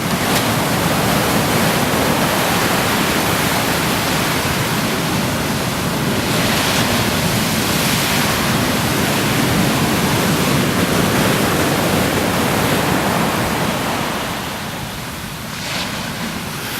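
Ocean waves push through at king tide on an Imperial Beach shoreline, a loud continuous roar of surf and rushing water that fills the whole clip, easing slightly near the end, with no talking.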